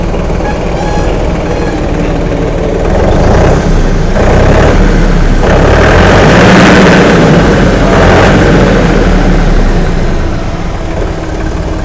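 A 50 hp tractor engine idles steadily with a rough, low rumble and a rhythmic chugging texture, loud and close throughout with no talk.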